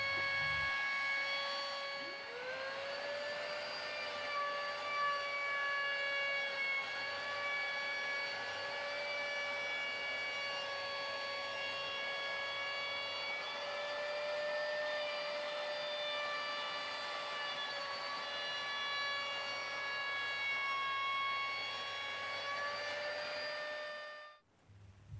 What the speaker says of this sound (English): I rounded over all the edges that I wanted to round over.